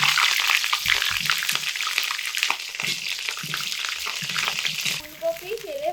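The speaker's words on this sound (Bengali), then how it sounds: "গরম তেলের মধ্যে কেটে রাখা ফুলকপিগুলো দিয়ে ভেজে নিচ্ছি আলাদা করে" Cut cauliflower florets frying in hot mustard oil, giving a steady, close sizzle with faint stirring and a voice talking over it.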